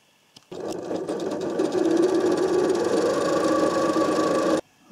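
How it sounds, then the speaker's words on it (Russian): A domestic sewing machine on a stretch overlock-style stitch sews and finishes the crotch seams of men's underwear, starting with a click and then running in a steady, close, rapid mechanical whir for about four seconds before stopping abruptly. "Шить буду восьмой строчкой. Она истачивает и сразу обметывает край."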